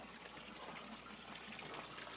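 Air bubbles rise and pop in water from a pipe after an air valve is closed, just before a siphon starts, making a steady close bubbling, gurgling wash with no one talking.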